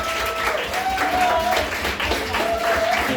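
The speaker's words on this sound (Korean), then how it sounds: "여러분, 우리 박수로 한번 축복해 주시기를 바랍니다." Church youth congregation claps together to bless the young members at a worship service, a steady crowd applause with faint voices and a tonal hum underneath.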